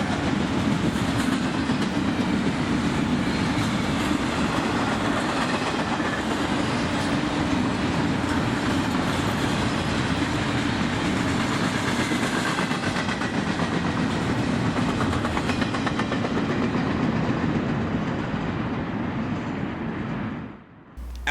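Freight train Q174 rolls through Folkston in a long, loud, continuous roar of wheels and cars with steady rumble and clatter, cutting off near the end.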